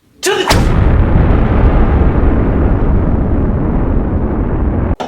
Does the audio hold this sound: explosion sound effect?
yes